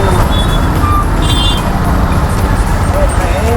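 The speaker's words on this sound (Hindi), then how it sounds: "जैसे आप देख सकते हैं ट्रैफिक बहुत ज़्यादा है यहाँ पे" Heavy street traffic in Bangalore rumbles steadily and loudly throughout, a dense wash of engines with faint horn or beep tones on top and a voice talking over it.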